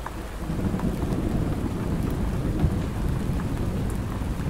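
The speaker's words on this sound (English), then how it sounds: "The first thunder." Steady heavy rain pours down during a nighttime rainstorm at a campsite, with a low rumble of thunder rolling under the constant dense hiss.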